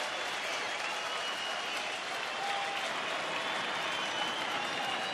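Fans at a Rangers–Angels baseball game cheer and applaud steadily for the pitcher, Robbie Ross, with the broad wash of crowd noise continuing evenly throughout.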